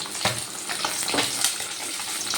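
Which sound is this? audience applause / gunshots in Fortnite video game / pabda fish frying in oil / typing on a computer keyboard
pabda fish frying in oil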